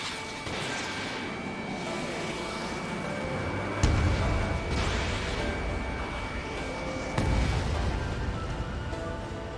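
Missile launches and explosions in the flight combat game Ace Combat 7, a dense roaring wash of jet and weapon noise broken by two heavy booming impacts, loud and continuous.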